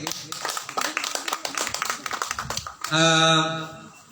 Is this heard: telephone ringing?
no